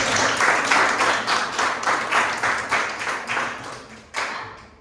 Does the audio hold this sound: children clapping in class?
yes